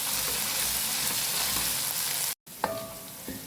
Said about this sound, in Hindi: इसको 2 से 3 मिनट तक लहसुन अदरक के पेस्ट को इसके अंदर मैं पकाऊंगी